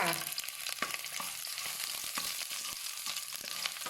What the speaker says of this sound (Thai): กระเทียมลงไปเตียวค่ะ